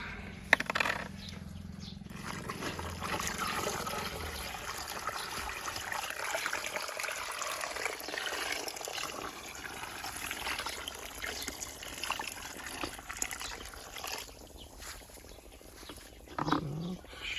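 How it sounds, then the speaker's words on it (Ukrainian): Water trickles and splashes into a roughly 20-litre bowl of sifted ash, a soft uneven pour close by with faint handling noises and small bumps. "просіюємо попелу з відерця, ось така миска, тут літрів на 20, і заливаємо його водичкою"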